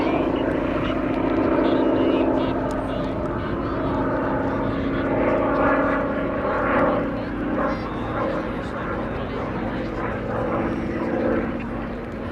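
Hawker Sea Fury piston-engine propeller fighter at the 2019 Cosford Airshow, a loud rumbling engine drone that swells and recedes over a dozen seconds, with a public-address voice over it.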